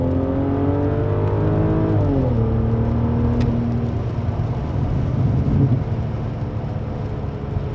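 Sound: BMW 7 Series V12 engine revving

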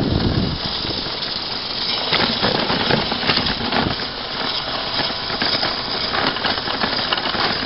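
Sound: headrest rattling while riding over bumps

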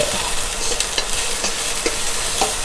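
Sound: stir-frying colored chili peppers in a pan

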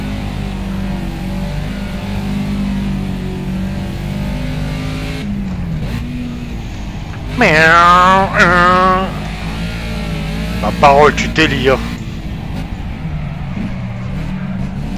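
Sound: car engine noise in the video game Project Cars VR

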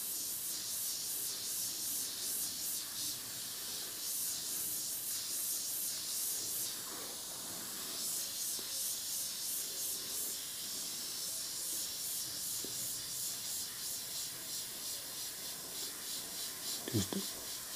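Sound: airbrush spraying transparent paint

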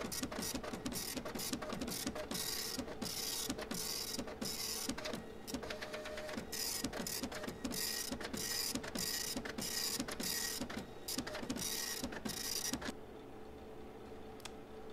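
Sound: printer printing paper in FNAF video game Printing at Fredbear's

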